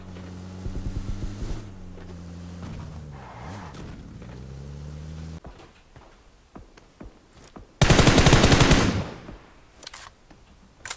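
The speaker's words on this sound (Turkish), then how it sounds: "Bak sıkıyorlar." PUBG Mobile gunfire, a burst of rapid machine-gun shots over a droning vehicle engine early on, sparse distant single shots in the middle, then a loud, harsh blast of sustained fire near the end.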